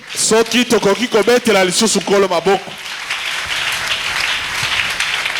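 A church congregation applauds and cheers the Lord in a French-language service, a broad wash of clapping that rises as a voice finishes speaking and then carries on alone.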